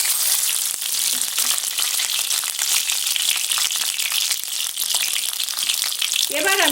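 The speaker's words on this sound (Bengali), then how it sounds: "এবার আমি তেলের মধ্যে একে একে ডিমগুলো ছেড়ে দিচ্ছি।" Eggs frying in hot oil for a Bengali coconut-milk pulao, a steady loud sizzle and crackle filling the whole stretch without a break, with a brief clink near the end.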